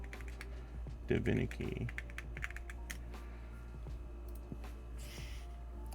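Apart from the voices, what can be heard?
typing on a Tess65 mechanical keyboard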